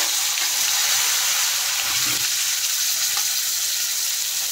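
Potatoes and cauliflower stems fry in oil with a loud, continuous bright sizzle, with faint stirring scrapes in the pan around the middle.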